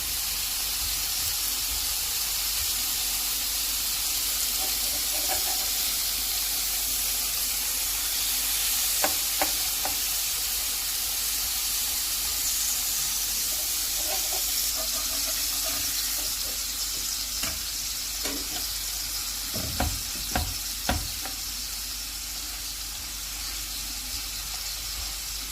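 Turkish kebab sizzling steadily on a hot grill pan, with a few sharp taps and scrapes as a spoon presses the meat down, continuous frying hiss throughout.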